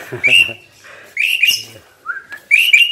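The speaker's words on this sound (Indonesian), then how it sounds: "Wah, ada burungnya juga nih." A pet bird kept in a room of an Islamic boarding school chirps and whistles in three bright bursts, with short rising tones between them and quieter background sounds.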